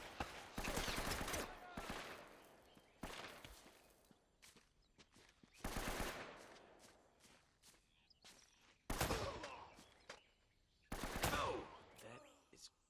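Gunfire in Uncharted: Drake's Fortune erupts in several sharp, loud bursts of rapid shots separated by quieter gaps, with footsteps and faint background sounds between volleys.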